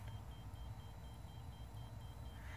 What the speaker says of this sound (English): It actually beeps while it blinks, so that might get annoying.